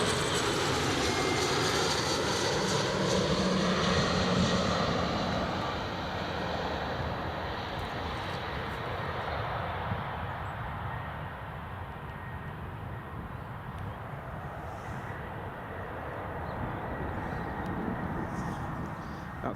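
A Loganair airliner arriving at Newcastle International Airport from Southampton, heard as a loud, steady engine roar that gradually eases, with a broad whine and rumble and no talk.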